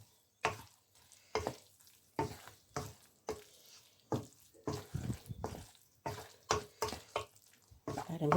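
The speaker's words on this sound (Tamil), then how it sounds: "அப்படியே பிரட்டி எடுங்கோ" Idli pieces are tossed in a tomato masala in a pan over low flame, making a rhythmic run of about a dozen sharp scraping strokes close to the microphone.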